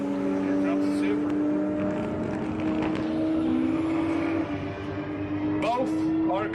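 A Toyota Supra drag racing at the TX2K21 event, its loud, sustained engine drone carrying across the strip along with other crowd and track noise.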